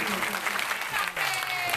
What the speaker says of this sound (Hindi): एक बार जोरदार ताली का प्यार होना चाहिए